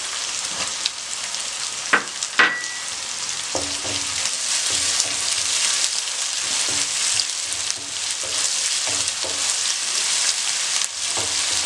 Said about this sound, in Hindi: हल्का सा फ्राई कर लिया इसको